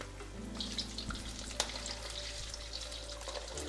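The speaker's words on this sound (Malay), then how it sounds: "kita goreng dulu ikan keli kita" Steady crackling sizzle of catfish frying in hot oil, close and continuous, with a low hum underneath and a brief clink.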